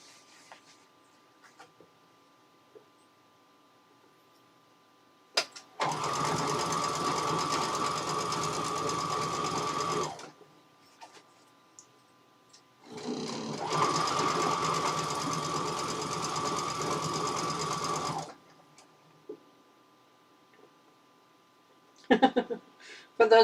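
A sewing machine stitching a Christmas table runner runs in two steady, even bursts of several seconds each, close and fairly loud, with quiet handling clicks between them.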